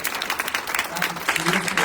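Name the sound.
audience applause for poet Tawanda Mulalu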